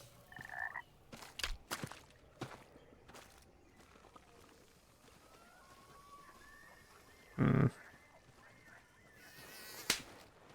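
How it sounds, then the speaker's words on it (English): A frog croaks sporadically, short scattered calls over a quiet background, with one louder, fuller croak standing out partway through. "Frog."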